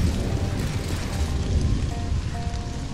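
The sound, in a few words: rain in video game Stranded: Alien Dawn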